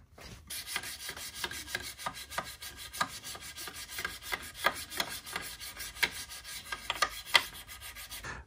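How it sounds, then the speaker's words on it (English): A scissors blade is drawn across the fine side of a sharpening stone in a regular rhythm of quiet rasping strokes, close and alone without speech. "And I'm gonna do this now on the fine side of the stone."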